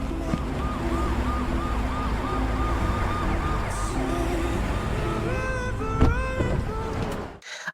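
An ambulance siren wails in repeated rising and falling cycles, loud and near amid traffic, then switches to a quicker yelp before cutting off abruptly.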